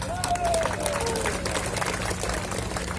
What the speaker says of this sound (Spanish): Yo quiero que den un fuerte voto de aplauso al hermano Hernán